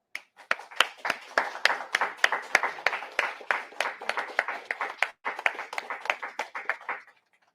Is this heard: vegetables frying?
no